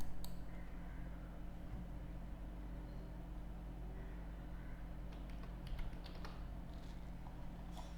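Keys tapping on a computer keyboard while filling in an online recruitment application form, faint, irregular clicks over a steady low electrical hum, with a short burst of quicker taps near the end.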